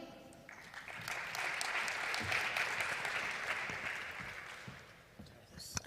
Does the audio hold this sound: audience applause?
yes